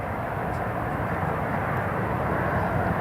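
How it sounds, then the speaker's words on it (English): Italian Air Force C-27J transport aircraft on landing approach at Newcastle International Airport, a steady broad engine roar holding constant and fairly loud for the whole stretch, with no talk over it. "There's the C-27."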